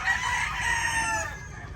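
A rooster crows on a gamefowl farm, one sustained clear call lasting over a second before fading, moderately near with a quiet farmyard background.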